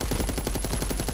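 An automated turret firing in the shooter video game FragPunk, a dense, rapid stream of loud machine-gun shots at a steady rhythm, close and unbroken.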